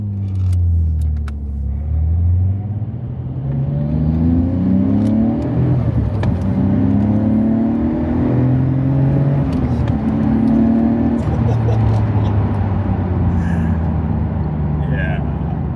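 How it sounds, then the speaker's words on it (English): A Nissan R34 GT-R engine rises and falls through several gear changes while driving, a strong close-up rumble with the revs climbing repeatedly, heard beneath a voice talking. "I'm actually driving the R34 GTR"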